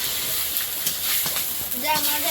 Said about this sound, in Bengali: তেলে একটু পাঁচ ফোড়ন তেজপাতা